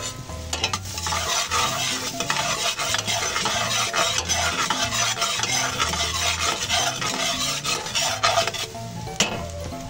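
Garlic sautés in melted butter in a pan, a continuous close sizzle layered with constant scraping and stirring of a utensil against the pan.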